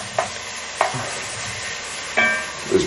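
A small amount of bacon frying in a pan for pea and bacon soup, a soft steady sizzle broken by a few distinct clattering stirs, with no talk.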